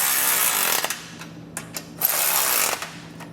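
A hand ratchet with a 3/4 inch socket snugging down bolts on a Curt custom hitch for a 2015 Jeep Wrangler Unlimited: a series of close, quick clicking strokes over a faint low hum.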